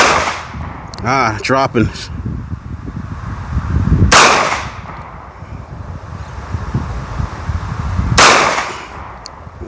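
Two sharp Taurus pistol shots crack at a target, spaced about four seconds apart and ringing out outdoors over wind noise, with a brief spoken word just before the first.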